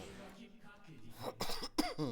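One person coughs a few times in quick, harsh bursts near the end, after a quieter stretch of faint background noise.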